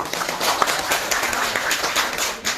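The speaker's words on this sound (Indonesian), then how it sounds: "Bagus, tepuk tangan dulu." A short burst of steady clapping from a small group in a classroom, dense and continuous for a couple of seconds, fairly close.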